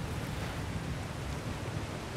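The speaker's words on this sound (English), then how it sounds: "That overflowing water is powering the crane." Overflowing water rushing to power a crane in God of War, a steady, full-bodied roar of pouring water with broad noisy texture, constant and close throughout.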